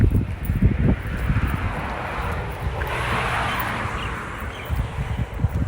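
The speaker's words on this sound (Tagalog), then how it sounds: "So, ayan humahangin." Steady wind rushes across an open outdoor space, with low gusty rumble throughout and no talking.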